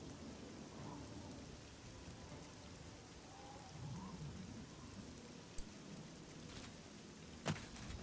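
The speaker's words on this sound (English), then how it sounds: "I don't like the rain though" Steady rain hiss in the video game Oblivion, soft and continuous throughout, with a couple of brief sharp clicks near the end.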